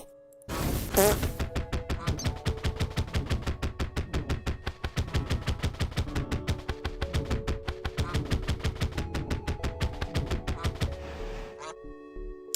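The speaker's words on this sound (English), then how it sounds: "Shoots a pulse of energy that summons a singularity at the impact zone." A rapid, rhythmic burst of electronic shots from a black hole cannon in modded Terraria fires continuously for about ten seconds, loud and mechanical, with a sharp blast at the start.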